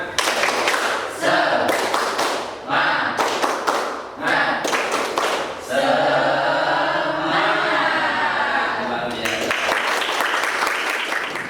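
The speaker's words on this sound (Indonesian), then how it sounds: "Tepuk semangat dulu ya" Classroom students perform a rhythmic spirit clap in patterned bursts of quick claps separated by short pauses, with group chanting or talk in between and a longer sung or spoken stretch in the middle.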